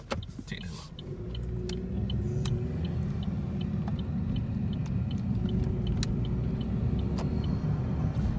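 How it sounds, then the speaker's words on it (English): A lowered, slammed car drives along with a steady low engine and road rumble inside the cabin, punctuated by repeated light ticks and clicks throughout. "riding around in a lower vehicle"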